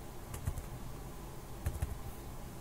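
Soft keystrokes on a computer keyboard arrive in two quick clusters of taps, quiet and close, against a low background hum with no talking.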